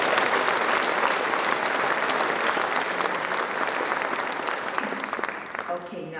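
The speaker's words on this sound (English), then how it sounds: "And so let's give them applause also." A banquet audience claps steadily in a dense, sustained round of applause that carries through the whole stretch and tapers slightly at the end.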